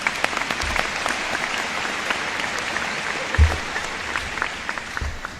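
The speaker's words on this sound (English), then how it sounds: "Let's give one more round of applause for Kieran Cooper." Sustained audience applause at a high school graduation ceremony, a dense wash of clapping from a large crowd that holds steady for several seconds with a few louder bumps and no talking over it.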